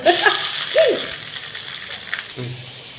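Chopped onion hits hot oil already holding mustard seeds, cumin and curry leaves, giving a close sizzle and frying hiss with stirring scrapes. A voice talks over it.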